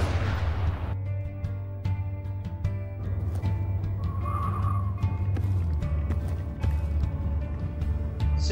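Gunfire in the Garry's Mod video game while hunting zombies, a run of sharp repeated shots and thuds over a steady game background hum, moderately loud.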